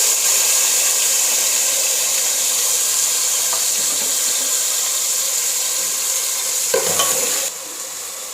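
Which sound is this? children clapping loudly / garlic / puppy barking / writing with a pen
garlic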